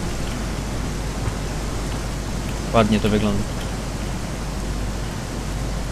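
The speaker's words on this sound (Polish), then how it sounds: "Tutaj słyszymy e, w tle głośny szum. Tutaj jest wodospad blisko nas." A nearby waterfall rushes in the game Risen 2, a loud, even broadband roar throughout, with someone briefly speaking over it midway.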